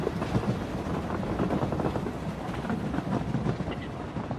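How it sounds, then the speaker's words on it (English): A train rolls past in the open-world video game H1Z1, producing a dense, continuous rumble with rhythmic clattering of wheels on track that stays loud and close throughout. "Stupid ass train scammed me."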